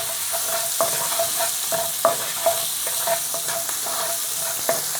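Onions and garlic sizzle steadily in a hot pan for a pork chop and tomato dish, with a spoon scraping and stirring at irregular intervals, close and moderately loud, with no voices.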